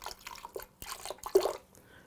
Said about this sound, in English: Just add a little bit of water to the blender